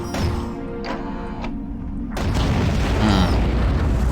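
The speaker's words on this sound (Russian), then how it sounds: "Редкий, но мощный выстрел." A single heavy alternate-fire shot from a weapon in the underwater video game AquaNox: a sudden deep boom that bursts in about halfway through and rolls on as a loud, rumbling blast, preceded by quieter game tones.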